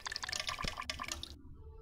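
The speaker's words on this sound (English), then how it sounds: "I'll jump in the water though." Splashing and dripping water as a character jumps into water in the video game Cube World, a quiet run of small watery splashes lasting just over a second before the sound drops away.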